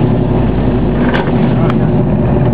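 A Ford Mustang Bullitt's engine drones loud and steady from inside the car on an easy first lap of a track, with brief bursts of voices over the constant roar.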